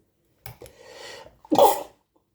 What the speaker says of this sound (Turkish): Her videomda bir hapşırıyorum